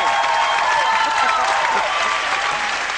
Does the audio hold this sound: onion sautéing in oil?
no